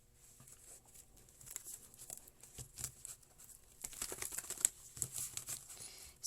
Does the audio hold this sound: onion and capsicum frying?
no